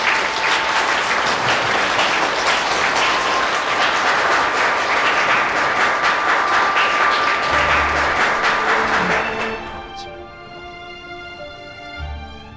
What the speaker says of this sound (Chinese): 下面让我们用热烈的掌声有请丁教授上台